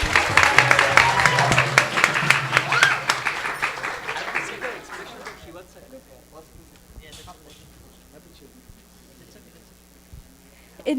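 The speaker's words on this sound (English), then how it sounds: "Let's give them a big round of applause." An audience applauds children at a devotional celebration, with dense, loud clapping for the first few seconds that thins out and fades to scattered claps and quiet room noise.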